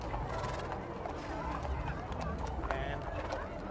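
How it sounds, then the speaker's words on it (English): Horses clip-clopping along a street during the National Western Stock Show parade in Denver, with a steady run of hoof steps amid crowd noise and nearby talking. "And a bunch more horses."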